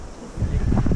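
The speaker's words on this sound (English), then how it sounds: "It's quite windy." Gusty wind buffets the microphone beside a small sailboat under repair, rising to a steady low rumble partway through, with faint voices underneath.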